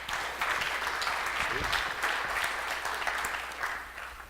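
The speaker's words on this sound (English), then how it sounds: "Can you guys please welcome him with a round of applause?" An audience at a tech talk on application security claps steadily for an arriving speaker, a dense, even wash of applause that fades slightly at the end.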